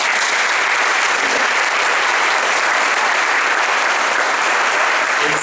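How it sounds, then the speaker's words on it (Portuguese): A church congregation claps loudly and continuously at a service, a thick, even roar of many hands that stays close and full for the whole stretch without any letup. "uma salva de palmas aos nossos irmãos do Pai"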